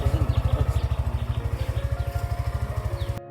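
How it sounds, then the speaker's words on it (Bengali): Close, steady putt-putt of a motorcycle engine idling with an even rapid rhythm, stopping abruptly just before the end. "বাইকটা স্টার্ট দিয়ে দেখতেছি বাইকের সাউন্ড কি অবস্থায় আছে"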